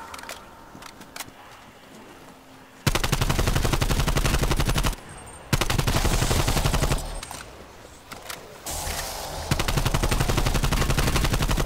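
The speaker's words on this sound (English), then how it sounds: "I don't know what happens when they shoot those zombies with that stuff." Rapid automatic gunfire from shooting zombies in COD: Black Ops Cold War, dense loud bursts lasting several seconds with short pauses between, no talk over it.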